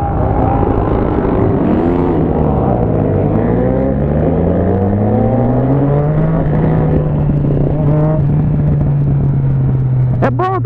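Motorcycles ride along a city road in Curitiba, including a Jog scooter, a WR360 and an XT600, with engines droning and shifting pitch continuously under loud wind rush.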